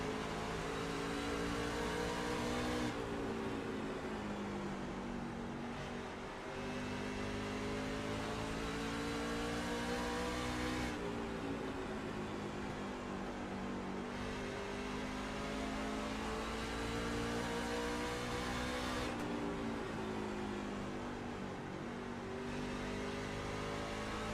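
Onboard race car engine from an iROC Challenge round at Bristol in a racing video game, droning loud and steady throughout with the throttle rising and lifting in repeated cycles, engine pitch swelling and dropping every few seconds.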